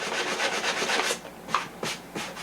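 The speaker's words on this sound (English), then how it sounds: "I'm going to just smooth it out with some 220 just to finish it off a little bit." Close, steady rubbing of 220 grit sandpaper smoothing a wooden model airplane wing, a continuous raspy swish followed by a few separate short strokes.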